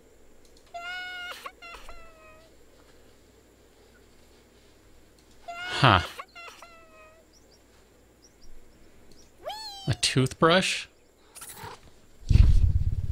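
A cat in a space survival video game gives several loud, close meows, some drawn out and rising, in scattered bursts between quiet stretches, with thumps and clatter toward the end and brief talking.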